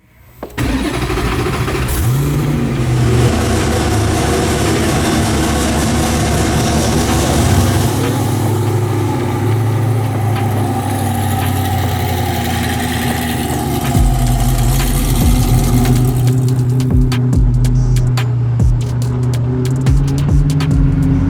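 A Hennessey Venom F5 Roadster fires up with a sharp crank and burst, then settles into a loud, throaty idle with rising revs and shifting engine tones, close and dominant throughout.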